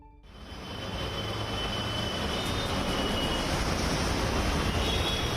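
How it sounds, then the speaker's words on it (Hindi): Delhi Metro train running along its tracks at Akshardham station, a steady broadband rumble and rush that builds within the first half-second and holds loud and continuous, with a faint high whine riding on top. "दिल्ली का दिल कही जाने वाली दिल्ली मेट्रो पटरियों पर दौड़ रही है"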